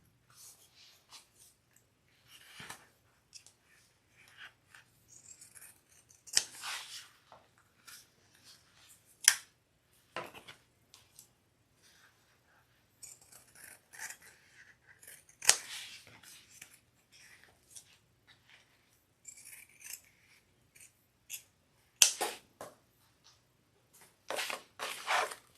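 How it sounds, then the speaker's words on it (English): Kai pinking shears cutting through fabric while sewing a sling bag, heard as scattered, fairly quiet snipping and crunching strokes in short bursts separated by pauses. "Fran, yes, I have Kai pinking shears"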